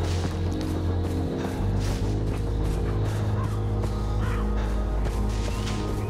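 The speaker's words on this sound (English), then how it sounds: "A lot of birds." Birds caw repeatedly in Far Cry 4 over a constant low game ambience with a droning hum, the calls coming in scattered bursts without speech.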